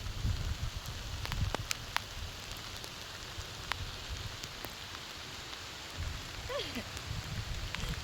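Steady rain pours down at Thampuratti rock in Thiruvananthapuram, a dense, even hiss of drops close by that holds throughout without a break.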